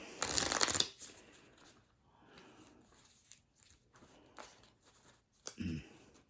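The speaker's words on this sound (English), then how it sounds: "everyone's going to get dealt a card." Playing cards are dealt for a round of Ricochet Poker, beginning with a burst of riffling then soft scattered flicks and slides as cards land, quiet and close with no voices.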